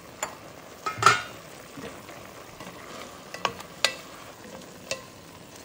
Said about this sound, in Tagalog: Lagyan natin ang ating gabi.